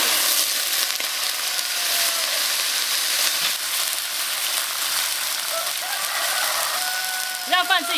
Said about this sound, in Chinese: 煎泥鳅。